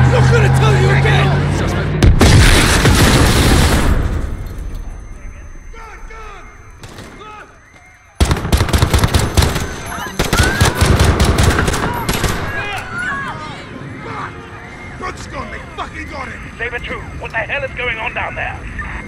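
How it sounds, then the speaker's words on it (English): Loud bursts of gunfire from Call of Duty Modern Warfare, with dense volleys early on, a brief drop-out, then more rapid shots mixed with shouting voices and chaotic game ambience. "Shots fired."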